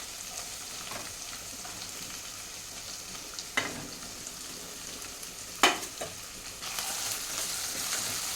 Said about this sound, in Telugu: బీన్స్ ఇంకా క్యారెట్ కూడా వేసేసుకున్నాం ఇప్పుడు ఇక్కడ.